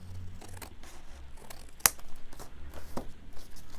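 Scissors snip through paper in a journal-making session, a series of soft close cuts with one sharp crisp snip standing out midway, with no voice over them.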